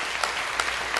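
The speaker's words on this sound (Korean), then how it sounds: "우리 박수를 한번." Congregation clapping during a Korean church prayer service, a steady close patter of many hands with no talk.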